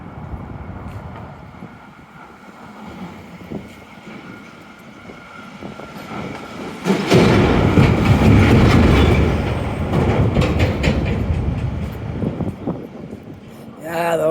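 Shipping containers on a passing train in Halifax's South End rattle and pound, a loud rumbling clatter that swells sharply midway and stays heavy, with wheel squeal and clacking over steady outdoor noise.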